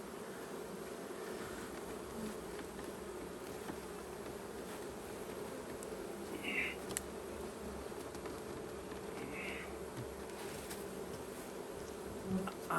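Honey bees droning steadily around a beekeeper's hives during spring honey production, a continuous close, even buzz lasting throughout with occasional individual insects passing nearer.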